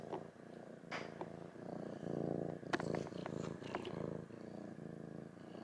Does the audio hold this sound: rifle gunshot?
no